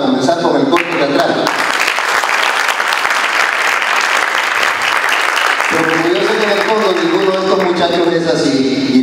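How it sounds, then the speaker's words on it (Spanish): An audience at an advertising creativity awards ceremony claps loudly to open a short theatre play. The applause runs steadily for several seconds between bouts of a presenter's amplified voice. "demos un fuerte aplauso para comenzar con el corto teatral"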